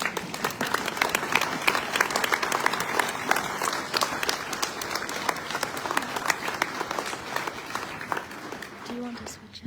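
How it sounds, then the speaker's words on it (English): Audience applause after choirs perform at a celebration of life, a dense, steady clapping crowd filling the room throughout before dying away at the end, with some voices mixed into the noise. "I am told that we can clap."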